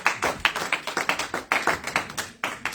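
A church congregation claps to acclaim Jesus, brisk uneven handclaps from many people filling the room, loud and close with a lively, slightly ragged rhythm.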